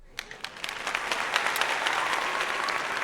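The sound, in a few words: applause during a livestream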